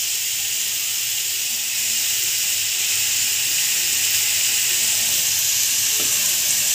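Bitter gourd frying in oil in a covered pan, a loud, steady hissing sizzle throughout with a faint clink near the end.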